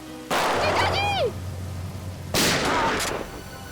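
Two sharp, loud gunshots in a CID TV crime drama ring out about two seconds apart, each followed by a ringing decay, with a low hum in between.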